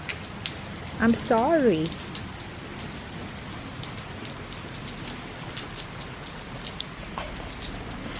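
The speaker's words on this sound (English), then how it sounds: "It's raining today." Steady rain falls outside on a walk-cancelling day, a dense, even patter that runs the whole time, with a dog's short whine and a brief spoken apology near the start.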